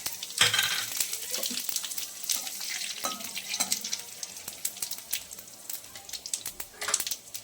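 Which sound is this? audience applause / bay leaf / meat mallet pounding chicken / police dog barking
bay leaf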